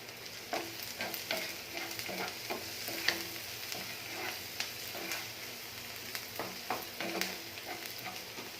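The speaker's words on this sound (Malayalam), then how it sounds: "പച്ചമുളക് ഇത് കുറച്ച് വഴറ്റിയെടുക്കാം. കുറച്ച് ഉപ്പിട്ട് കൊടുക്കാം," Green chillies sauté with salt in a pan for a mushroom gravy, making a continuous sizzle broken by repeated spatula stirs and scrapes at an irregular rhythm, close and moderately loud.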